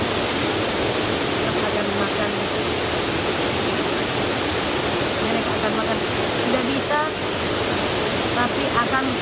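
Kima Atas waterfall near Manado roaring in a constant, loud broadband rush, with someone speaking over the falling water.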